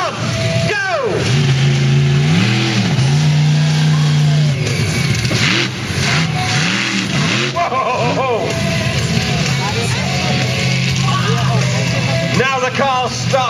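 The Bigfoot 17 monster truck at Truckfest in Newark, UK, revs its engine hard on a run-up, with repeated rising and falling bursts of roar up close, alongside a loudspeaker voice and crowd noise.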